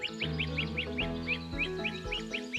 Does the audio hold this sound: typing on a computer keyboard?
no